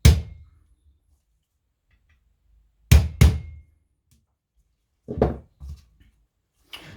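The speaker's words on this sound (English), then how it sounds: "the big hammer might come in handy to get that last little knock in" Hammer blows tap a part into place while reassembling a Henry Big Boy .44 Magnum lever-action rifle, five sharp knocks in separate clusters with silence between, close and loud.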